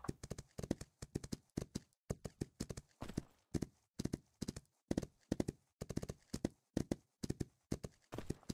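Rhythmic clip-clop of horse hooves walking in the video game Myth of Empires, evenly spaced hoofbeats close and clear with short quiet gaps between them.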